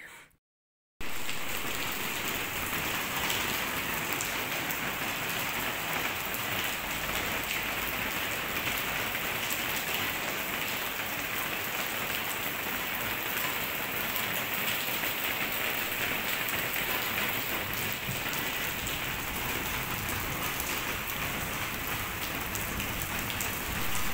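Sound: heavy rain with wind

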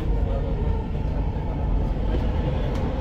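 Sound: Dubai Metro train passing

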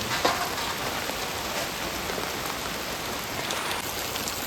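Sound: rain

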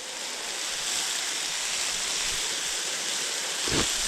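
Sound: pouring liquid into cauldron over plov ingredients

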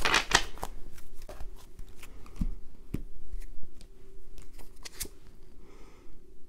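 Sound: shuffling tarot cards

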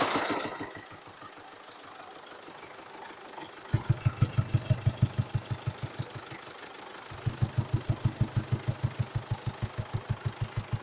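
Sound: Mercedes Sprinter diesel engine running with intake pipe removed

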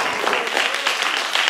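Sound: audience applause for volunteers

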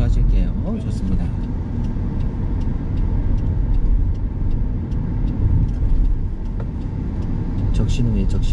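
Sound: car driving and turning right

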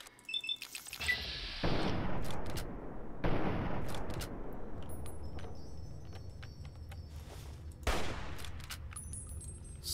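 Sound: gunfire in Fallout New Vegas video game

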